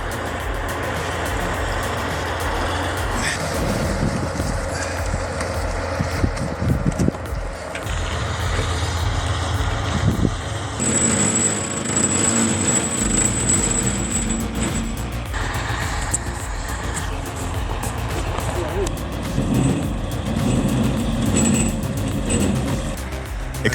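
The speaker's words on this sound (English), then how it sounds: "Extracting a tractor stuck in ice and water is no small task." Heavy machinery strains to pull a tractor stuck in ice and water, with loud diesel engines revving and idling, clanks and scraping, and a high whine partway through, continuous and close.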